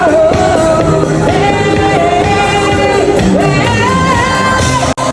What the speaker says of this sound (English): there were a lot of people on the streets singing and dancing and stuff